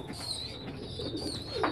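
Meat pigeons of a French breed cooing inside a shipping carton, soft low coos repeating close by with no voices.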